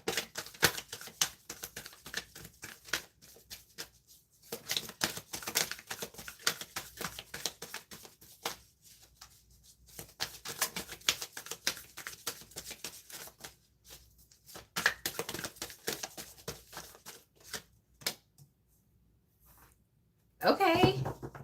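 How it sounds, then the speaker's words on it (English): Soft, papery riffling and flicking of tarot cards in repeated bursts with pauses between, fairly close, ending with a louder shuffle. "Let me shuffle again."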